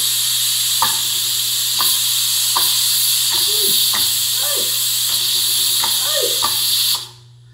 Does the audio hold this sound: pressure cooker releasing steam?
yes